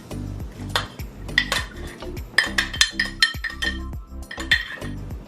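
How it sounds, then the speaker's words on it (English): Small broken pieces of saltfish go into a pot of Jamaican stewed peas, with a quick run of clinks and clatters of a utensil against the pot, close up and busy, with no talking. "at this point I'm gonna add the saltfish as well."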